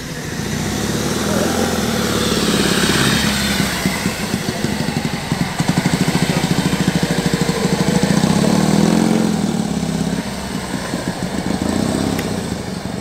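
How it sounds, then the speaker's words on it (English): Several motorcycles arrive and settle into a steady, loud idling rumble with a pulsing low throb, close by at a classic car meet at Crewe Heritage Centre, with some talk faintly underneath. "we've got the motorcycle contingent has arrived"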